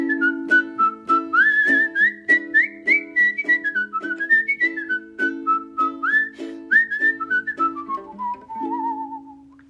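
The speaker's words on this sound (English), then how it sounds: "And were you just playing the ukulele there with your whistling?" A person whistles the folk tune Arkansas Traveler in a clear, lively melody over steady plucked ukulele chords strummed in a bouncing rhythm, close and alone without talk.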